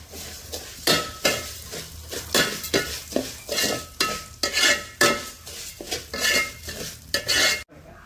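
Vermicelli fried in ghee is stirred briskly in a pan, making rhythmic scraping strokes roughly twice a second over a soft sizzle, close up, with a brief silence at the end.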